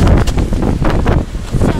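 Strong gusting wind buffeting the microphone at a snowy ski resort in Korea, loud rumbling roar rising and falling close to the mic.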